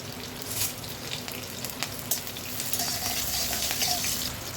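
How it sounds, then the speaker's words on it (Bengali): Panch phoron spices with green chilli crackling and sizzling in hot oil, a steady close hiss dotted with small sharp pops, no talking. "5 ফোড়নটা চটর পটর করে একটু আওয়াজ হোক"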